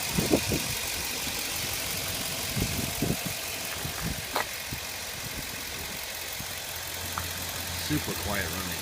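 A 2007 Chevy Silverado's 5.3-liter V8 idles quietly and smoothly nearby, a soft steady engine murmur with occasional light clicks and background noise.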